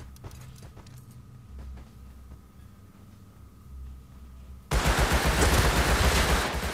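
Bursts of automatic gunfire in the survival game Rust erupt suddenly and loudly after a stretch of quieter ambient game noise, sustained rapid shots filling the final seconds.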